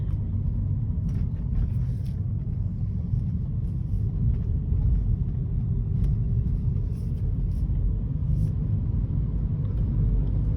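A 2012 BMW 118i M Sport with a 2.0 engine and Steptronic automatic gearbox, whose engine keeps cutting out, accelerates at low speed. A steady, loud low engine and road rumble runs throughout with no talk.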